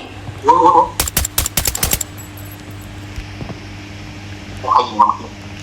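A rapid burst of automatic gunfire in Arena Breakout, a tight string of loud close shots lasting about a second, framed by short bursts of talking before and after.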